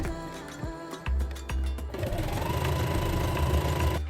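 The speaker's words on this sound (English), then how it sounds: "Stitch the elastic to the pants close to the top edge, evenly distributing the elastic between the quarter marks." A sewing machine stitches elastic to the top edge of wide-leg pants, starting with a few stop-and-go bursts, then running in a steady, close, whirring drone.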